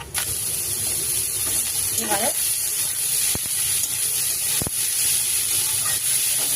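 Radish greens hiss and sizzle in hot oil with reddened garlic and a pinch of turmeric, a steady close frying noise with a couple of sharp clicks and a voice speaking over it.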